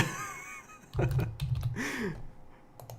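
Computer mouse clicks from someone clicking around a screen during a lunchtime livestream, a few close, sharp clicks scattered over a quiet room with a brief low vocal sound in the middle.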